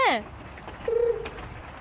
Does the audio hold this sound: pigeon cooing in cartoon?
yes